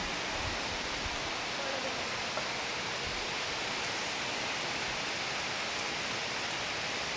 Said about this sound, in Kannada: ಒಳ್ಳೆ ಬಂತೀಗ ಮಳೆ ಒಳ್ಳೆ ಬಂತು ಮಳೆ